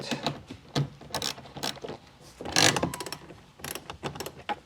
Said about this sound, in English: I just have a 10 millimeter socket, and these are all loose.